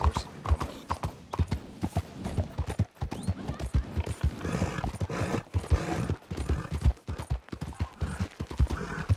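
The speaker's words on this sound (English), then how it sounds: "A lot of horses." Several horses in Red Dead Redemption II trotting with rapid, overlapping hoof clip-clops, fairly close, with a brief whinny among the hooves.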